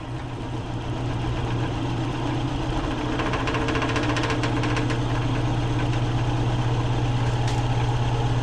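Wood lathe turning a piece of firewood and speeding up toward about 800 RPM, giving a steady, loud low motor hum with a faint rising whine and some light scraping noise above it, with no talk.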